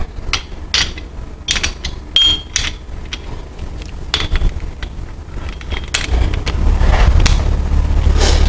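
A ratchet tightens bolts on a Land Rover 90 during a restoration, giving a run of sharp, close clicks in quick bursts, followed by a heavier, continuous rumble toward the end, with no talk.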